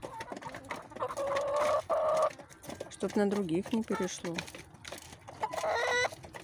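Hens and a rooster cluck and chirp in a backyard flock near a drinking hen with growths on her comb, the bird calls loud and close, with someone talking over them.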